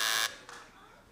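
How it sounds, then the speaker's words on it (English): A game show buzzer sounds once, a loud flat electronic tone lasting about a quarter second before cutting off, followed by a faint short echo of it. "You hit it with the buzzer."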